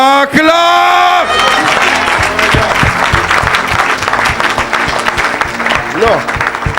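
A church congregation at an evangelistic gathering breaks into loud, sustained applause with cheers and crowd noise, following a brief sung or shouted phrase at the start, steady and dense throughout.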